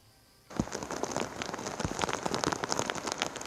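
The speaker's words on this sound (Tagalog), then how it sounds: "magdamag pa rin naranasan ng malakas na buhos ng ulan sa malaking bahagi ng probinsya ng Cagayan" Heavy rain pours steadily in Cagayan province during Typhoon Goring, starting abruptly after a quiet half-second and then hissing densely and loudly on surfaces, with scattered sharper drops standing out.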